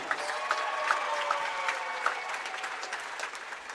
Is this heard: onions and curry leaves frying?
no